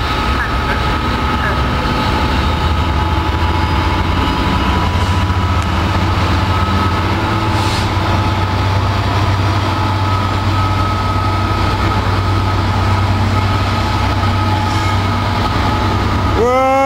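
Class 70 diesel locomotives roll past on a freight line, a steady loud low engine drone with a high squealing tone throughout and rising wheel squeal near the end; faint voices murmur underneath.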